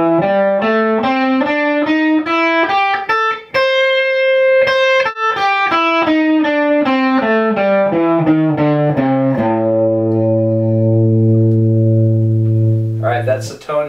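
An electric guitar with distortion runs up and down the A blues scale, single notes played one after another in a steady line, ending on a long sustained low note, loud and alone.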